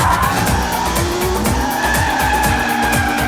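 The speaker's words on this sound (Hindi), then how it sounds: "चल गाड़ी घुमा।" In a Hindi-dubbed South Indian comedy film, a car turns around with a steady engine roar and sustained tire squeal and skidding throughout.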